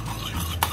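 A spoon stirs shallots, paprika and spring onions together in a pan, giving soft scraping and brief clinks with a light sizzle, close and quiet, ending in a sharper scrape.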